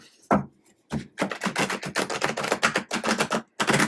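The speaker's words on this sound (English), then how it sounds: "Make sure I get that good shuffle in there." Crisp riffling and flapping of a tarot deck being shuffled, a quick series of papery bursts after a couple of single taps.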